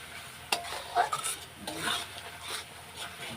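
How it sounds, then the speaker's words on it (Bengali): A turmeric and cumin spice paste being sautéed in a pan for mutton, with soft scraping stirs and quiet sizzling in irregular bursts, close and fairly faint. "এখন এই দেখো এটা কষানো হয়ে এসছে মশলাগুলো"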